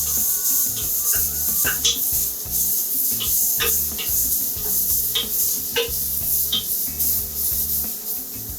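Finely sliced onions frying in oil for chicken kurma, a steady close sizzle with scraping and stirring rasps from a utensil, continuous and without talk.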